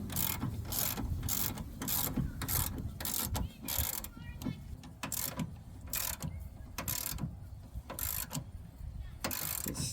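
Ratchet clicking in repeated bursts as a lower control arm bolt on a Dodge Dakota is tightened, a steady mechanical ratcheting close by with short pauses between strokes, no talk.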